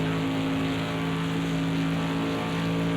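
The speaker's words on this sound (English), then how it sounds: "What a noise that comes from the two of these cars." Two loud race car engines running together at night in a Le Mans 24 Hours sim racing game, a steady droning engine tone held throughout with no talk.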